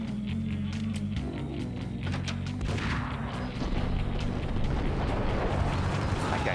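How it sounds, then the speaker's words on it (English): A grenade blast in the video game Max Payne, a heavy rumbling explosion amid ongoing bursts of gunfire and loud, dense action noise. "That guy threw a grenade."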